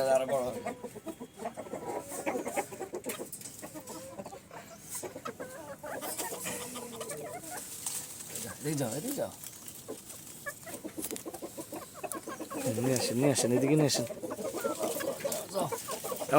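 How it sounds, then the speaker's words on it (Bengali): Several Serama chickens cluck and chatter nearby in bursts, with someone speaking intermittently over the birds. "এটা হলো শারমা মুরগি"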